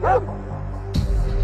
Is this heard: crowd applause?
no